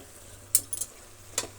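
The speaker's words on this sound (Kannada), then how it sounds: "ತರಕಾರಿ ಒಂದು 5-6 ಸೆಕೆಂಡು ಆ ರೀತಿ ಫ್ರೈ ಮಾಡಿದರೆ ಒಳ್ಳೆ ಘಮ ಬರುತ್ತೆ" Vegetables being stir-fried in a pan for egg pulao, with a low steady sizzle broken by a few short scraping stirs of a utensil against the pan, close and alone.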